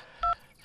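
A telephone keypad sends two dual-tone dial beeps, one short tone and then a second one right at the end, heard clearly and alone with no talking.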